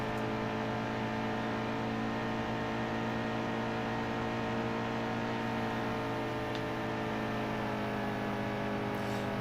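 Race truck engine in the NASCAR Heat 2 Camping World Truck Series at Charlotte, droning steadily and loud with a layered harmonic whine that holds its pitch throughout, no voices over it.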